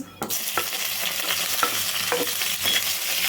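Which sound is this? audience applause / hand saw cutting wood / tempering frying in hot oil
tempering frying in hot oil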